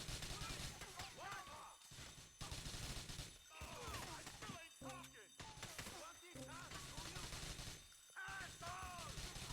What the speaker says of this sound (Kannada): ಅವನ್ ಯಾರೋ ದೂರದಿಂದ ಎಲ್ಲ ಹೊಡಿತವನೆ